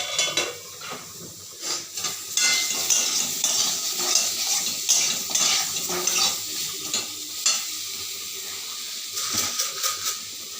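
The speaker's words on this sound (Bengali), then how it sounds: "ওই যে ঝোলটা ফুটছে, আর একটু ফুটবে" Pointed gourd and potato curry gravy bubbles in a pot, a bubbling, hissing boil with scattered clinks and scrapes of a utensil against the pot, close and steady, with no voices.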